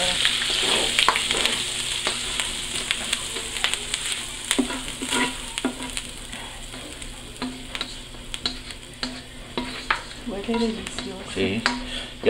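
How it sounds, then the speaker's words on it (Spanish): Beans for frijoles charros being stirred together in a frying pan, a steady sizzle with repeated scraping and clinking strokes of the spoon throughout, no voices. "Y luego ya se revuelve todo junto."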